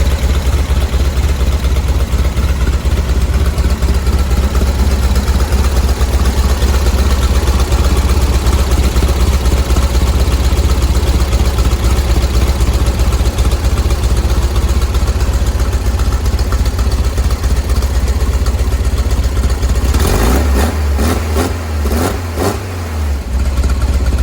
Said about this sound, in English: to me that's holding a good enough idle even as it warms up